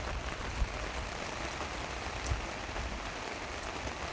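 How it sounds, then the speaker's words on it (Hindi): Heavy rain falling in Riyadh, a dense continuous hiss of drops on surfaces with a couple of faint taps, steady and moderately close, no talk. "ये देखिए जी, काफ़ी तेज़ हो रही है बारिश"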